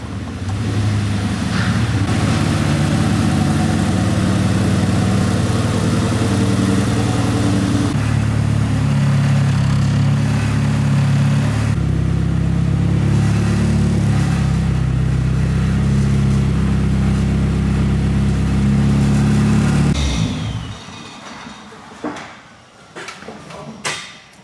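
Built RB26-engined car in a garage, a loud, steady, dense engine drone held for about twenty seconds before cutting off, followed by a few scattered bumps and knocks.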